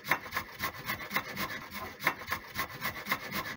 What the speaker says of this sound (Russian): Теперь морковь натираем на терке.